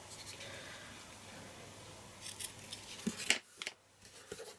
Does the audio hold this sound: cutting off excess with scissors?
yes